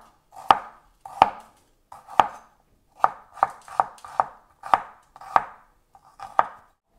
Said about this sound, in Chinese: 红葱头咧系咁嘢，再切片得噶啦